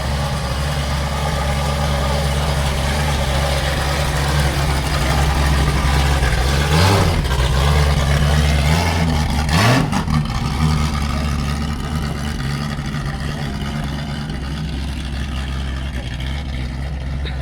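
A race car engine runs steadily at a loud, close idle with a deep low rumble, swelling briefly in a couple of revs midway before settling back to an even drone.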